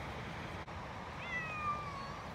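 A faint, thin meow from a cat near a river rises and trails off once over steady outdoor noise, with no one speaking.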